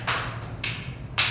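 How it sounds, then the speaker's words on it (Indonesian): Hands clap three times in an even, unhurried rhythm, each clap a sharp, moderately loud slap with short pauses between, over a quiet room background. "coba tepuk 3 kali"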